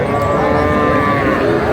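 A young bull calf at a cattle market lets out one long, loud, steady moo that fills the clip from start to finish, with faint market bustle behind it.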